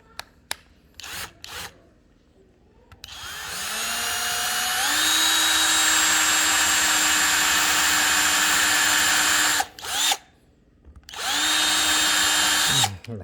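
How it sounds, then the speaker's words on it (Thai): A power drill with a thread-tapping bit whirs steadily for several seconds while drilling into plastic, stops briefly, then runs again in a loud, close, continuous grind. "เดี๋ยวทดสอบลองเจาะเลยนะครับ"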